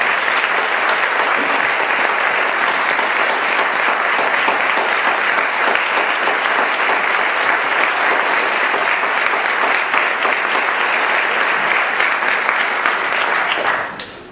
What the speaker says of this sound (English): please stand up and accept a very warm round of applause